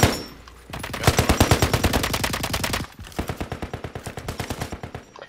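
Automatic gunfire in the video game Call of Duty Warzone: two long, loud, rapid bursts of shots in close succession, with a short gap between them.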